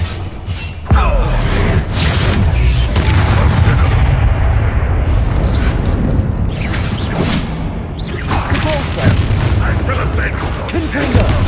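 Spell blasts and booms from combat in the game Hogwarts Legacy, a dense run of loud impacts and crashing bursts over game noise, with a player's voice talking through it.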